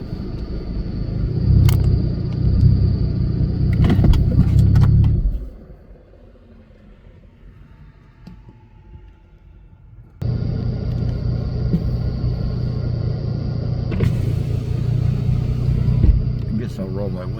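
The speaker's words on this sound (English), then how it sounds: "I am sitting in the car. I got the AC on." A car sits idling with the air conditioning running, giving a loud, steady low engine rumble and blower hum. The sound drops to a much quieter background for several seconds mid-way, then the full rumble returns.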